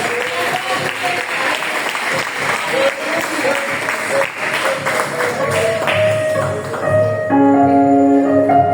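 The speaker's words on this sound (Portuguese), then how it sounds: "Suas palmas são para o Senhor" A church congregation at a Sunday morning family service claps loudly and continuously, with voices underneath and sustained musical tones rising near the end.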